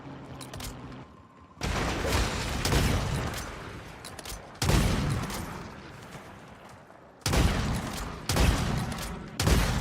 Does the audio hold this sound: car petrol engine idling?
no